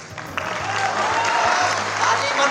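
An audience at a Hindi poetry recital bursts into dense, sustained clapping that keeps going throughout, with a voice speaking over the crowd.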